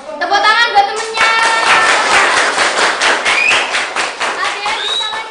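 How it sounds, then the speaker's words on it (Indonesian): Schoolchildren in a classroom clap for a classmate, a fairly loud, busy patter of many small hands, with children's voices talking over and among the claps throughout. "Tepuk tangan buat temennya."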